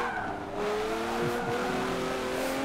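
In Forza Motorsport 7, an AMR race car engine screams loudly and steadily, with rising and falling whines as it shifts gears during a race.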